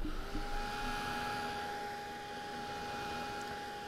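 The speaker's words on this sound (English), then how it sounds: "So I'm going to dry this real quick." A dryer blows a steady, even rush of air to dry paint during a painting session. The whir is continuous and close throughout, with a faint tonal whine and no talk over it.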